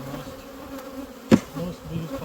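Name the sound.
honey bees buzzing at an open hive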